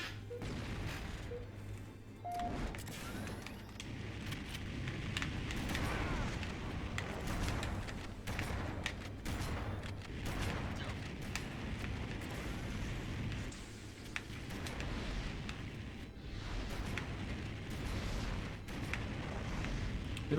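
Gunfire and explosive blasts from the video game Halo CE, a dense, continuous barrage of booming shots and crashes at steady loudness, with no voices.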